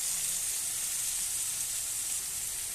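Coriander and cumin powder hit a hot pan of oil, giving a bright, continuous sizzle and hiss that holds steady and close throughout.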